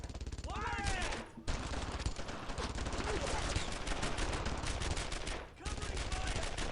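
Dense, continuous gunfire in the World War II shooter Brothers in Arms: Earned in Blood, with rapid bursts and machine-gun fire layered together, loud and sustained with only brief lulls, and some voices mixed in.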